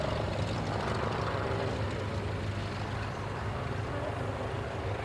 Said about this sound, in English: The Lynx is still a very agile helicopter